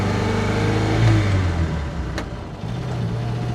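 A rare 1950s Ford Fordson E83W Utilicon engine pulls away in first gear from a stop, a steady low droning chug up close that rises briefly and then settles back.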